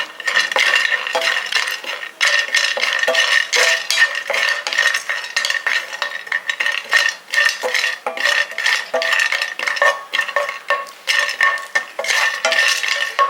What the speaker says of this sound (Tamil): முந்திரி பருப்பை வறுத்துக்கலாம்